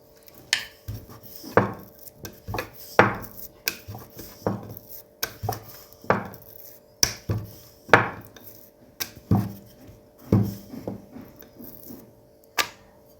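Small ajwain puri dough balls are rolled out one after another on a board with a rolling pin, giving a steady, rhythmic series of soft wooden knocks and rolling scrapes, close and fairly quiet.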